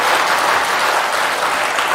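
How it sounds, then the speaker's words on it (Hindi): At a religious darbar gathering, a large crowd claps loudly and continuously, a dense, even roar of hands for two seconds with no voices on top. "आनंद आया ताली बजाइए,"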